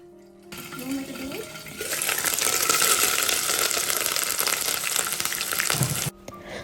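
Hot oil with garlic paste spatters and sizzles in a covered pan during Sri Lankan curry cooking, a loud steady crackle that swells after a quieter start and stops abruptly near the end.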